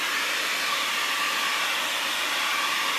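A hair dryer blows steadily on wet paint while a sunflower painting is being made, giving a close, even, continuous whooshing hiss that holds unchanged throughout with no talking.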